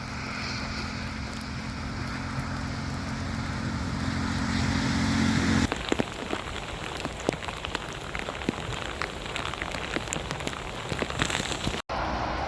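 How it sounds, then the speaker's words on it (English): Rain falling along the Rideau Trail in Ontario, a steady dense patter of drops close by, loud and continuous with no voices, briefly shifting character partway through as the pelting grows crisper. "Better to be on a trail in the rain than in rush hour on a highway in the rain."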